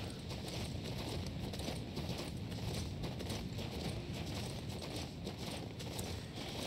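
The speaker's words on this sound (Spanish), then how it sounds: "Cabalgando por el oeste." Horse hooves clip-clop at a steady riding pace in the King's Bounty 2 video game, a continuous rhythmic patter under dense ambient game sound.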